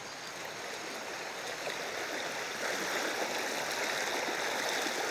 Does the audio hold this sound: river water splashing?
yes